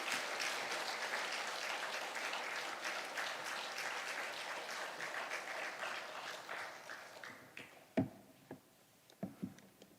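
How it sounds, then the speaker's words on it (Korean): A church congregation claps in a sustained round of applause that thins out near the end into a few scattered, sharper claps, heard at a moderate distance. "우리 환영과 축복에 박수하겠습니다"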